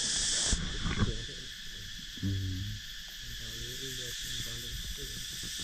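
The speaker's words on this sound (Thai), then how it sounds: "เสียงจักจั่นแซวทุกคน" Cicadas drone in a constant high-pitched buzz, with a few low animal-like calls and scattered rustles nearby.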